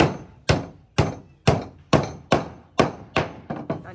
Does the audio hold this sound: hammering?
yes